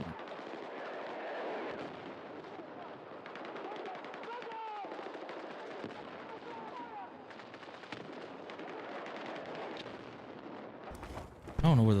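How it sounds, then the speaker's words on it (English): Sustained gunfire and heavy explosive blasts, including mortar fire, from a Call of Duty-style shooter video game, forming a dense continuous barrage with a sharp loud burst at the end and a voice talking over it. "The mortar seems like it's coming from like over in this area, but like back there."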